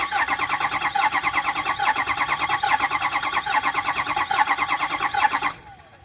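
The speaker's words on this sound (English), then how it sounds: "Let's listen to the crank here and see how it sounds when it's cranking." A Ford 6.4 Powerstroke diesel engine with a rough-running base engine fault cranks on the starter, a loud close rhythmic churning that holds steady for several seconds before cutting off abruptly.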